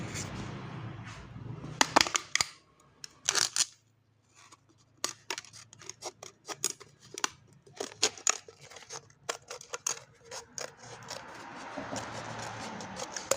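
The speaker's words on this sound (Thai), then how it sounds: "อ่ะกดพลาสติกครับเราตัดเลย" Scissors cutting plastic into a ring to make a replacement recoil starter part, a series of sharp snips and crinkly cuts with quiet gaps, close and without speech.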